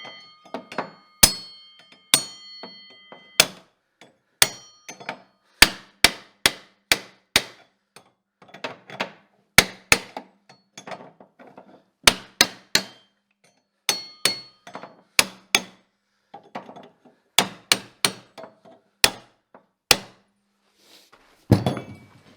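Hammer tapping a bearing into place on a snowmobile drive part: a long series of sharp, close metallic taps in irregular clusters, some in quick doubles and triples, with brief silences between groups.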